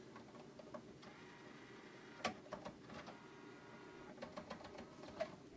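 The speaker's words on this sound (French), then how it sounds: "le changement de CD là, est toujours très bruyant" A stereo CD changer swaps discs, giving off a faint run of mechanical ticks, whirs and clicks with a soft motor hum. The sounds are quiet and irregular, with a couple of sharper clacks, and no one speaks.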